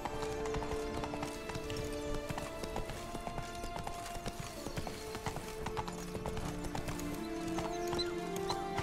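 In The Witcher 3, a horse's hooves clip-clop in a steady rhythm, with a whinny and tack jingles mixed in. It sits alongside game music and a faint voice.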